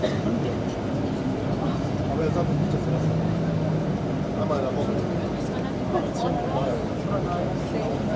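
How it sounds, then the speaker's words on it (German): Jet engine of an airliner on the apron at Gran Canaria, a steady loud roar and rumble with a low hum, continuing throughout alongside nearby voices. "Das Klappern ist hoffentlich nicht unser Triebwerk. Oder doch? Es ist unser Triebwerk."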